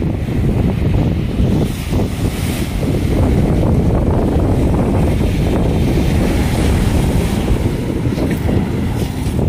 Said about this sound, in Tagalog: Pagpatuloy pa na tumaas ang hampas ng alon, at talagang yung dagat ay lumalim pa o tumaas pa.